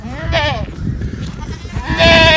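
Goats and sheep bleating nearby, two wavering calls about two seconds apart, with a person talking underneath.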